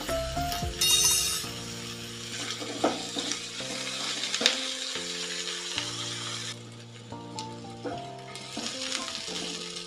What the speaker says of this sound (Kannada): ಎಲ್ಲವನ್ನು ಸೇರಿಸ್ಕೊಂಡು ನೀಟಾಗಿ ಒಂದು ಫ್ರೈ ಮಾಡ್ಕೊಳ್ಳೋಣ